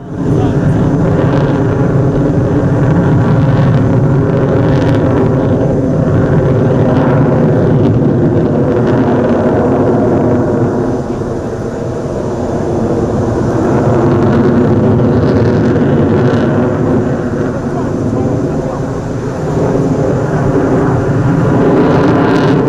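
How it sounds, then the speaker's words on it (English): A Sukhoi fighter jet flying a low-speed handling display at the Dubai Airshow 2025, flown by a test pilot, gives a loud, steady, continuous engine roar that swells and dips slightly without any sharp acceleration. "The display is the typical Sukhoi low-speed handling demonstration, the aircraft not accelerating even once"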